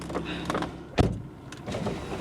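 A Volvo C30's power window motor whirs briefly, rising and fading in the middle, with a thump at the end and faint background noise around it.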